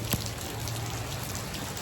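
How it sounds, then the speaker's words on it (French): Steady rain falling outdoors during a run, a dense even patter of drops on surfaces, close and continuous with one brief sharper splash near the start and no talking. "mais c'est vrai qu'il pleut beaucoup quand même"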